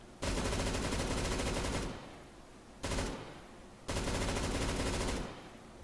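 Loud automatic gunfire from the new M249 machine gun in CS:GO in three sustained bursts separated by short pauses, with no talking.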